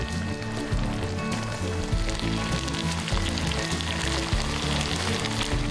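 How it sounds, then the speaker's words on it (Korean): Mackerel simmering down with mustard-green kimchi, green onion, onion, vegetables and seasoning sauce, giving a steady, close bubbling sizzle that runs without pause. "갓김치와 고등어 넣고 대파, 양파, 몇 가지 채소와 양념장을 넣어 졸여주는 갓고등어 조림"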